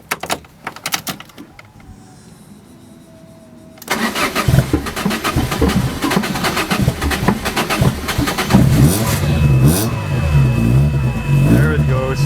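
A project car built for budget track use cranks and catches, its engine firing up loudly, then revving repeatedly in rising, uneven bursts that continue to the end, with voices nearby.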